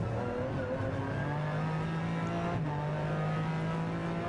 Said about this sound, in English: Just listen to that V12.